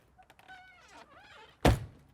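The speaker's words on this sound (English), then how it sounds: "these Lippert solid steps that just fold up and get out of your way" Lippert folding solid steps on an Outdoors RV 26RPS travel trailer pushed in with a single loud, close thunk, just after some quieter handling noises.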